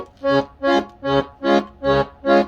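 Six short, evenly spaced accordion chords, played on the left-hand buttons, pulse in a steady rhythm, each swelling and fading, reedy and close.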